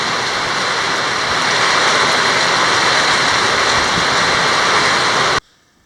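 Heavy rain shower pouring down in the Amazon jungle, a dense loud steady rush of water that cuts off abruptly near the end.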